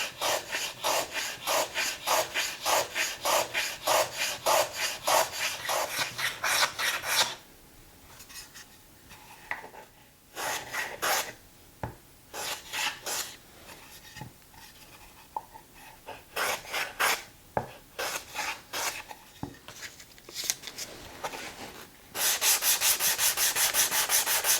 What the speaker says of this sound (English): I'll use a plane follow up with some sandpaper. I count my strokes, in this case 15 strokes per edge.